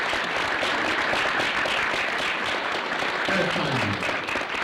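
A crowd claps loudly and densely for an event organiser and his team, a sustained, unbroken wall of applause, with a voice briefly rising over it near the end.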